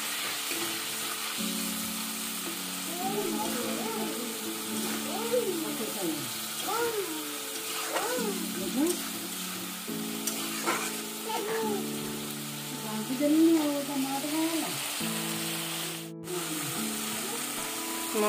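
Potatoes and tomatoes fry in a pan, a steady sizzle heard under a voice talking throughout, with occasional stirring scrapes.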